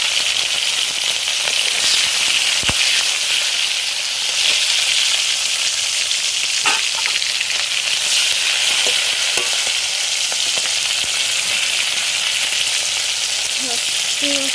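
Prawns fry with chopped onion and tomato in a hot pan, a steady loud sizzle and hiss throughout, with occasional stirring scrapes and small pops, no voices.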